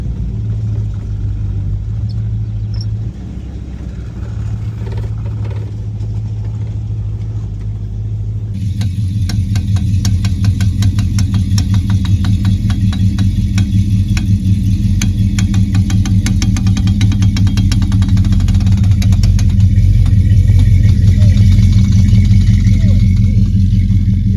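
A 1970 Dodge Charger's engine rumbles steadily inside the cabin, growing louder while turning, with a rapid knocking rattle from a failing rear end layered over the drone.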